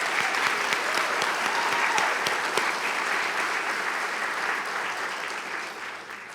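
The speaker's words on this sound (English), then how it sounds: "Please join me in offering a round of applause for the NEC staff." Sustained applause from a graduation ceremony audience honoring staff, steady dense clapping from a large crowd in a hall, holding evenly for several seconds before tapering slightly at the end.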